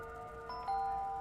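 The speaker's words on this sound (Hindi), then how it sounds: "अरे फोन की नहीं, दरवाजे की घंटी है।" A doorbell rings indoors: a soft, short electronic ding-dong chime that is faint and sustained, with no voices.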